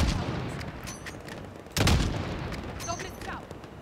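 Gunfire in the video game Call of Duty: Modern Warfare (2019), with a loud shot burst near the middle amid ongoing background battle noise and scattered smaller reports.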